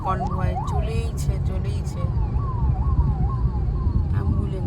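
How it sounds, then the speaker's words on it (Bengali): An ambulance siren wails in a repeating up-and-down pattern as it passes along a busy highway on a road trip to Puri, heard over the steady drone of car engines and traffic, with some nearby talk. "অ্যাম্বুলেন্স আবার গেল।"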